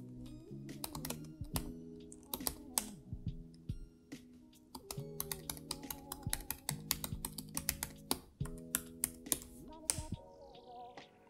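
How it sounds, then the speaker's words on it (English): Typing on a computer keyboard, a fast irregular run of sharp key clicks in bursts with brief pauses, close and clear, with a faint tonal hum underneath. "So let's go ahead and type this in"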